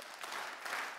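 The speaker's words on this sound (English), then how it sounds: "3 claps and then aha" An audience at a summit claps together in a short burst, a few quick soft claps blending into a brief smattering heard from a distance.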